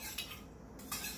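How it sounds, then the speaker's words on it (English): A utensil scrapes and clinks softly against a pot while stirring brown gravy mixed with cold water, two short clatters standing out over a quiet background. "That's why I'm stirring it up."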